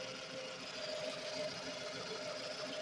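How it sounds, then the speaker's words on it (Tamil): A car engine idles, heard from right beside the engine bay, a steady mechanical hum with a whirring belt noise dominating, constant and even with no talk. "உங்களுக்கு இன்ஜின் சவுண்டு, இன்ஜின் எவ்வளோ ஷேக் ஆகுதுங்கிறதெல்லாம் காமிக்கிறதுக்காக"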